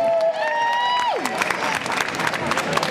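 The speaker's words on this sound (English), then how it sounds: "Round of applause for Rita" An arena crowd claps and cheers at a live stage show, dense and loud throughout. A sustained tone at the start drops away and is followed by scattered sharp claps.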